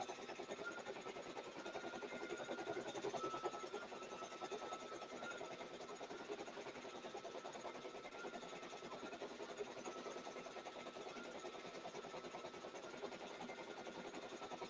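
A Brother 6-needle embroidery machine running steadily with a fast, even mechanical stitching chatter and hum, moderately quiet and continuous with no pauses.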